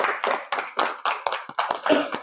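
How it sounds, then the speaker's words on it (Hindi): A small group applauds a woman at a network marketing meeting, giving a short burst of distinct, separate hand claps that sound fairly close, about ten claps in a loose, uneven rhythm. "हाँ एक बार मैडम के लिए तालियां बजाएं"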